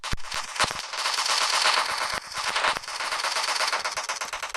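Rapid automatic gunfire from a video game rattles in close, loud bursts, with a few brief pauses between volleys and no speech.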